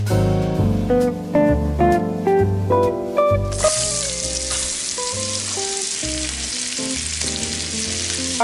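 Sliced Baby Bella mushrooms drop into hot melted butter, setting off a loud, steady sizzle that fills the pan and carries on unbroken, with no one talking over it.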